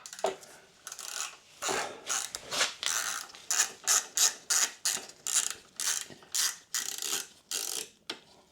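Metal bolt being turned into a thread on a Yamaha MT125 engine, a steady run of sharp ratcheting clicks in even bursts, close and fairly loud, no voices.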